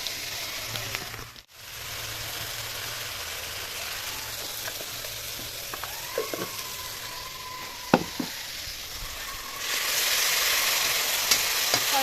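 Spice paste with tomato and bay leaf sizzles steadily in a pan, a soft continuous frying hiss with a few faint stirring clinks and scrapes, no talking.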